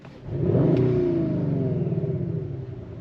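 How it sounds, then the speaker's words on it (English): A 2023 Audi RS5 engine revs up sharply and holds a throaty, rising roar, heard from inside the closed cabin with windows up, then eases slightly toward the end. "Let's give it a rev."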